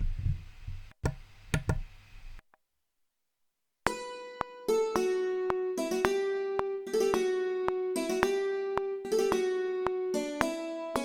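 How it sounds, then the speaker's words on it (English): A hammered dulcimer plays a quick melody of ringing struck strings after a few soft knocks and a brief silence. "And then I used a Celtic hammer dulcimer"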